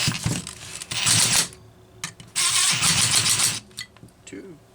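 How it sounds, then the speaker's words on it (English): Pneumatic rattle gun impact wrench tightening bolts while removing an engine from a Homelite XL chainsaw, firing in two loud hammering bursts of about a second each, with clicks and handling noise between them. "the rattle gun gets that right about to where it ought to be"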